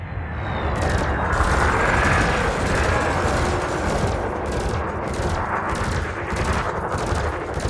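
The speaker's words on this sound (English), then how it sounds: "You may have noticed that multi-cannons are effective against unshielded targets." Multi-cannons in the space combat game Elite Dangerous fire in a dense, continuous rattling barrage with booming impacts, loud and unbroken for several seconds, with no voices.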